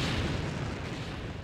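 Artillery fire bombarding in the Halo game Sins of the Prophets, a loud, sustained, rumbling barrage of booms filling the short moment without a break, with no talking.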